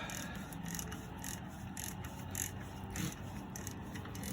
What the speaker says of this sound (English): I'm holding it with one hand, ratcheting with another